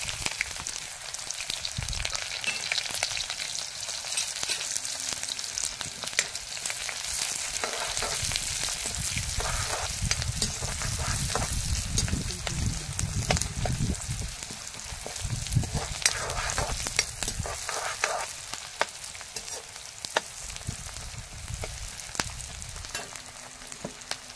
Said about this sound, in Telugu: ఆయిల్ వేడిచ్చిన తర్వాత ఇవంతా ఉల్లిపాయలు